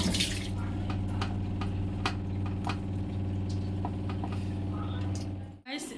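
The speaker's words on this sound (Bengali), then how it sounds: "তো মাছটা ধুয়ে নিই।" Large tengra fish are rinsed under running water, a steady stream with scattered small splashes and drips. It runs loud and even for several seconds, then cuts off near the end.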